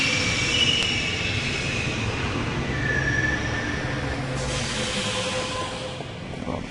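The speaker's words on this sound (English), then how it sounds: "On the train we go." A subway train ride in The Longest Journey, a loud continuous rumble of wheels on rails with squealing and hiss laid over it, steady throughout.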